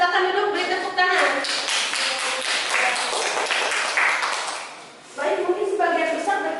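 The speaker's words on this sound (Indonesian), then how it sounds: "beri tepuk tangan" Classroom applause from students, a dense burst of clapping lasting a few seconds between stretches of a teacher talking before and after.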